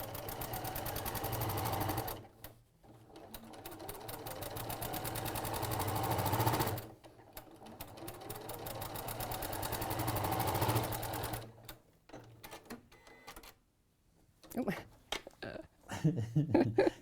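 Sewing machine running during quilt piecing, with long steady mechanical runs of several seconds separated by short stops, then a few brief bursts, fairly close, with faint talk in the background.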